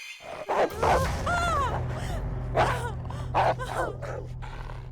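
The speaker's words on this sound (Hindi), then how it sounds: "इस घर में कुत्ते भी हैं।" Dog barking inside a house in a horror drama, several sharp barks and yelps spaced out over a few seconds, mid-distance, with a low steady hum underneath.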